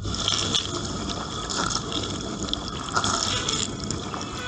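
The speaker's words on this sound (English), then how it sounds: "The first stage starts with pumping water inside" Water pumped into a transparent dishwasher at the start of its longest cycle, a steady close rushing and splashing fill with faint dripping, continuous for the whole stretch with no talk.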